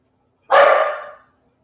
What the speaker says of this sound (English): I wish they would stop barking.